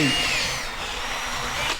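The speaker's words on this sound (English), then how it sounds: "I'm just drilling them out just a smidgen. They're aluminum" A power drill whines steadily as it bores out aluminum spacers for a fork install on an E-ride Pro SS electric bike, a brief, close, continuous high-pitched run.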